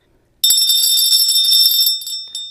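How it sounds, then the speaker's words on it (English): A crystal bell once used by Queen Elizabeth II on her 1954 visit to South Australia is struck once, giving a bright, sustained ring that decays over about two seconds, followed by a fainter second ring, with no talking. "A bell, a crystal bell, and this was the bell used by Her Majesty during her 1954 visit to South Australia"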